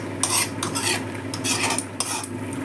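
A spoon scrapes and stirs thickening biryani masala gravy in a metal pot, making repeated close scraping strokes with a faint simmer beneath and no talking.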